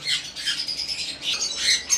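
Cockatiels in a bird breeder's aviary give harsh, overlapping squawks and chirps, steady and fairly close, with no talking.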